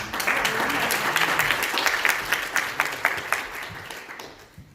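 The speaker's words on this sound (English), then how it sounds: "Applaud our children one more time." A church congregation applauds the children, with a burst of dense clapping that thins into scattered individual claps and fades out near the end.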